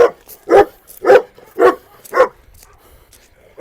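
A dog barks five times in a steady, evenly spaced rhythm, close and loud, followed by a brief pause and the start of another bark.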